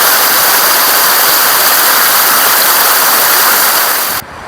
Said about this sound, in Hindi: यहाँ से पानी 12 महीने चलता रहता है ये पानी